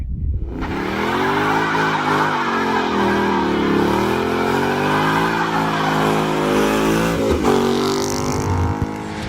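A 2011 Ford Mustang GT with the 5.0 engine revs hard and loud nearby, its deep roar sustained and rising and falling in pitch for several seconds, with a brief dip and surge near the end.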